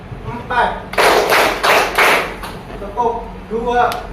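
A class of students claps hands together in rhythmic bursts of several quick claps, loud and close, with brief pauses between groups and a teacher's voice calling out counts in the gaps.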